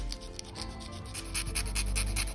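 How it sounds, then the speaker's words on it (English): A coarse nail file rasps across a hardened dip powder nail in quick back-and-forth strokes, close and soft, growing a little louder toward the end. "Okay, so now what I'm gonna use is the little file that it came with."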